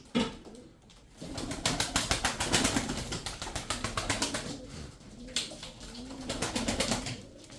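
A loft of about 35 tumbler pigeons coos in soft, overlapping throaty calls amid rustling and wing flutters, a busy close-up flock sound with no talking.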